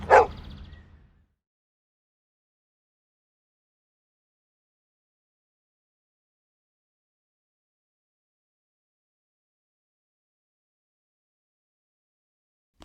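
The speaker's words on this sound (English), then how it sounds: "I meant me and my dog Bessie here." A pet dog gives a single short bark right at the start, then complete silence follows.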